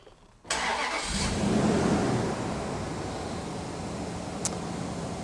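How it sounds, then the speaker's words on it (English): A Chrysler car engine starts with a sudden crank and catch, then settles into a steady, close idle with no one speaking. "So I'm going to start the engine."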